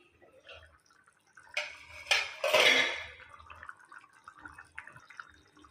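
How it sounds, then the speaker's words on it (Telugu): A metal lid clatters off a cooking pot of country-egg and dried-fish curry, a short burst of scraping and clanking that then settles into quieter bubbling and faint kitchen noise. "మూత తీసుకుని చూద్దాం."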